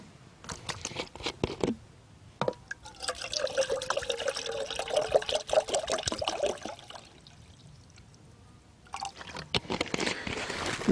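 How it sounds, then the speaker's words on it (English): Half a liter of water poured into a Jetboil stove pot, a close, steady trickling pour in two stretches separated by a quiet pause, with splashy patter at the start. "let's pour up half a liter of water here also"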